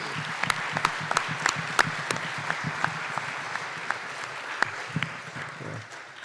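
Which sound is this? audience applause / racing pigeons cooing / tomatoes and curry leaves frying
audience applause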